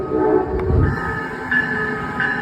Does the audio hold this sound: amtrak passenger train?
yes